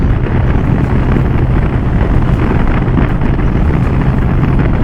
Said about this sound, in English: This is where I hit a really bad crosswind.